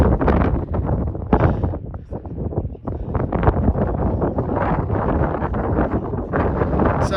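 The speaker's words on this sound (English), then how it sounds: "Wind just dropping slightly." Wind blowing across an open hillside on a moorland walk, a heavy, continuous buffeting roar against the microphone that rises and dips in gusts throughout.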